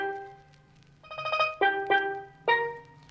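A dry synth element from a dancehall beat built in FL Studio, with no effects, plays a few short plucked tonal notes and clipped chord stabs, quiet and close, with a soft low hum underneath.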